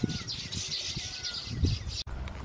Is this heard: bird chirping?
yes